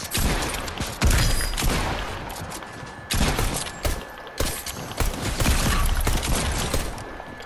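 Rapid bursts of gunfire in the video game Fortnite, several loud broadband volleys with short gaps between them, close and dense, with no talk over them.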